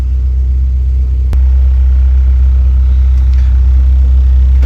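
A car with a K24 engine idles loudly with a deep rumble, a sharp click or clunk midway, then the engine note thickens and continues steadily.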